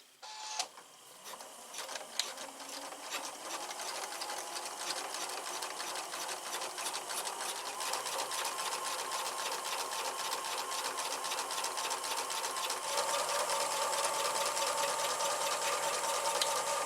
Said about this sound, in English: we're going to start back sewing right after that corner flap